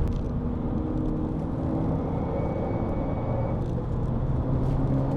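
A Vauxhall Astra VXR lapping fast on the Nürburgring Nordschleife gives a steady, loud in-cabin engine and road roar with a continuous low rumble and no break in intensity.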